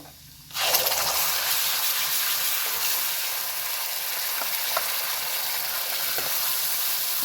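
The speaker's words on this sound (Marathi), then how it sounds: "आता आपण हे छान परतून घेणार आहोत" Ground onion-garlic masala paste with red chili powder sizzles loudly in a hot pan for a wild kantola vegetable curry. A sharp burst starts as the paste hits the oil, then settles into a steady, close frying hiss with no voices.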